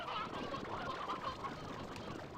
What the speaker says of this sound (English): So many roosters.